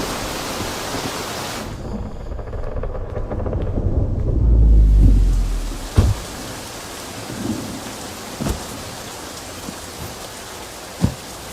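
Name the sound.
heavy rain with thunder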